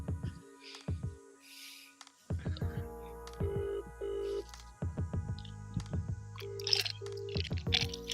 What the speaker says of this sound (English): Dialing him now, everybody.